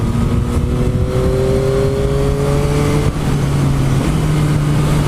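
A 2021 Yamaha MT-09 SP motorcycle engine pulls steadily under acceleration, its tone rising smoothly through a gear before a brief dip and a fresh climb, loud and continuous with constant road and wind roar beneath.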